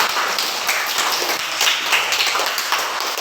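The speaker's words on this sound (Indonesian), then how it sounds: "Berarti tepuk tangan untuk kita." A classroom of students claps together, a dense continuous patter of hands that sounds close and fills the room evenly.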